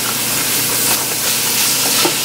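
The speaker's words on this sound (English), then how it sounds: "Now I'm going to add my scallions in here. Toss that around as well." Scallions hit a hot pan and are tossed for a vegetable rice and black bean dish, a loud steady sizzle and hiss of frying with faint stirring scrapes, close up and without talk.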